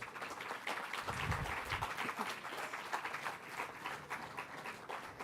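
Conference audience applauding at a closing function, a steady, dense wash of many hands clapping that fills the whole stretch at moderate level, with no talk over it.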